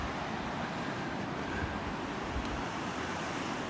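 Soft, steady rush of river water along a riverbank with a light wind blowing over the microphone, faint and continuous, with no voices.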